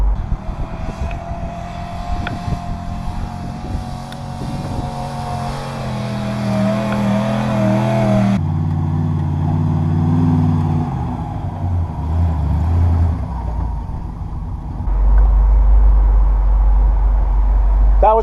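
A 1971 GMC Suburban four-wheeling off-road through sand dunes, its engine droning and revving steadily throughout, with rising pitch as it accelerates and a deeper, louder rumble near the end.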